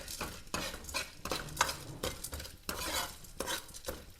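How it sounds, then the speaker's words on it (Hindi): Edible gum (gond) fries in desi ghee and is stirred with a spoon, giving repeated scraping strokes against the pan over a steady crackling sizzle, close and fairly loud, with no voices. "देसी घी में सबसे पहले हम गूंद को डालेंगे"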